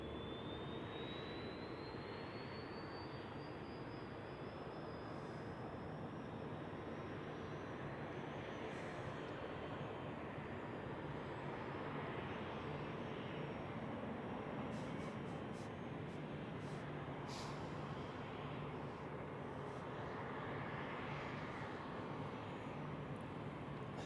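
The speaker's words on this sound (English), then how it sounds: "We have another landing, looks like another EasyJet." An EasyJet airliner landing at Zurich Airport on a crosswind day, heard as a steady, broad engine roar with a rising whine, sustained and fairly distant throughout.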